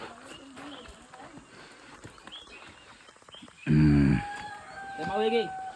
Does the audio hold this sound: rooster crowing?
yes